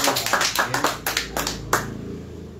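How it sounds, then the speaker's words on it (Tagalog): A church audience claps for the Lord: a handful of scattered, uneven hand claps over a couple of seconds, fairly close, trailing off into quiet room tone. "Palakpakan natin ang Panginoon."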